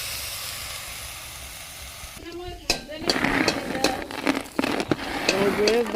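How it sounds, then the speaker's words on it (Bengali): Shrimp begins frying in a hot pan for a village bhorta meal, bursting into loud, close sizzling and crackling partway through after a quieter stretch, with sputtering pops continuing to the end. "চিংড়ি ভাজা হইতেছে।"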